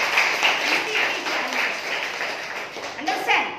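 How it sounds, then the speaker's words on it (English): A class of students claps their hands together in a steady patter of quick, light claps, heard under a teacher talking over them. "Clap your hands for her."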